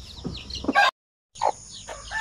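Young chicks of pure Zampen, Basilan and Shamo Aseel chicken breeds peep and chirp close by in short, bright calls, broken by a brief silent gap before the chirping resumes.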